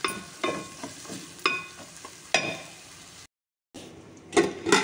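Onions sautéing in a pan for a drumstick curry, a close sizzle broken by repeated scraping stirs and utensil knocks, with a brief silent gap before the frying and stirring resume.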